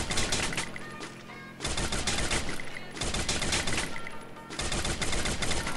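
Rapid automatic bursts from a FAMAS rifle with the Alchemist skin in Free Fire, loud close rattling fire in several long sustained volleys separated by short pauses, with no talking over it.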